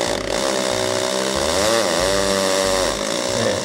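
A loud, continuous hammer drill grinding into tile, its pitch dipping and rising as it bores in, running steadily with no talking.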